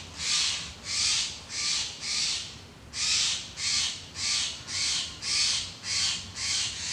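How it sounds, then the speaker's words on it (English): A loud bird calls repeatedly outdoors, about a dozen harsh, even caws in a steady rhythm with a short pause partway, fairly close and alone without speech. "It's a very loud bird."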